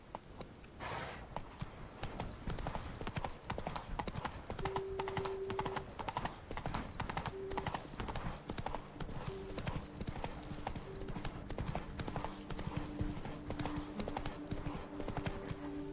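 Horse hooves clip-clop at a steady walking rhythm in The Witcher 3, with an occasional whinny. The hoofbeats are crisp and continuous throughout, with faint game ambience beneath.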